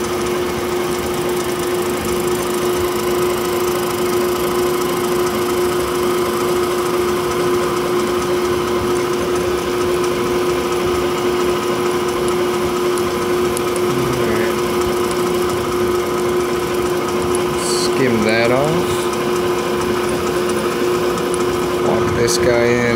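A metal lathe takes a very light skim cut across the end of a dual-input terminal post, its steady motor hum and faint cutting chatter running loud and continuous throughout, with no locked carriage.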